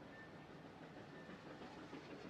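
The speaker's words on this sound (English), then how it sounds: "And there is a steam train going behind me" A steam train passing in the distance, a faint, steady rumbling wash of rail noise with a thin whistle-like tone drifting over it, no voices.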